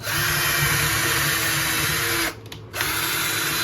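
A Hyper Tough 12-volt cordless drill whirs continuously at high speed while drilling a hole, briefly stopping for a moment before spinning up again, close and steady.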